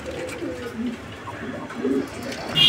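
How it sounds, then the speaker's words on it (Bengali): Madrasi golla fancy pigeons coo softly in low, rolling murmurs, with some faint background chatter and a brighter noise near the end. "প্রিয় বন্ধুরা, এই মুহূর্তে আমরা দেখতে পাচ্ছি চমৎকার আরও এক জোড়া কবুতরের কালেকশন রয়েছে। আর এগুলো হচ্ছে মাদ্রাজি গোল্লা।"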